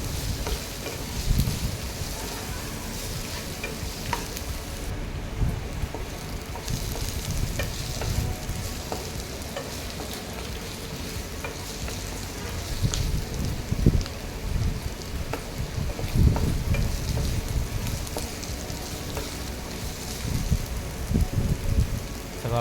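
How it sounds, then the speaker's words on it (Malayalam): Sliced onions fry in a pan for a homemade chicken curry, a steady close sizzle broken by repeated scraping stirs. "സവാള നല്ല ഫ്രൈ ആയി വന്നിട്ടുണ്ട്"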